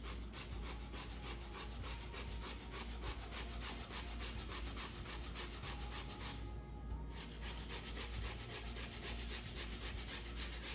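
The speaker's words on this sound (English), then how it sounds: "So I'm gonna be grating up my ginger, turmeric, and horseradish." Frozen ginger, turmeric and horseradish roots rubbed hard against a hand grater in fast, steady back-and-forth strokes, a close, continuous rasping scrape with a brief pause near the middle.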